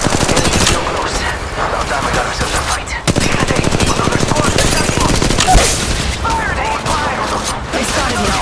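Rapid gunfire in Apex Legends Mobile during a winter battle royale match, loud dense bursts of automatic shots nearly continuous with a brief pause, close, with a voice talking intermittently underneath.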